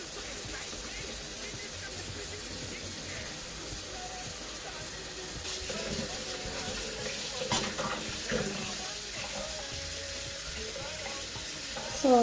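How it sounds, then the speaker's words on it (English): Cold water pours from a tap into a pot while leafy khati khati greens are being prepared, a steady soft splashing stream that continues throughout at moderate level, with a slight swell near the end. "Gonna pour in some cold water."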